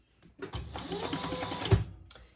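A sewing machine top stitches a retro style sling in one short run, a quick close mechanical whirr with rapid needle clatter lasting under two seconds.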